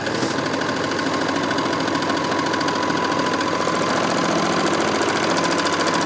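A Bernette b64 Airlock overlocker runs steadily at close range, its rapid mechanical chatter and motor hum continuous and fairly loud with no pauses and no talking.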